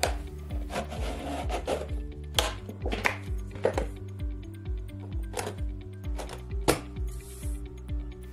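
Plastic bottles being cut by hand, with repeated crisp cuts and scraping strokes at an irregular rhythm, close and fairly loud, with no talking.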